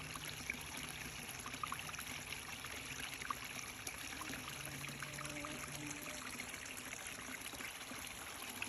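Steady, faint trickle of a small garden waterfall, continuous and even throughout, like a small cascade splashing gently with no voices.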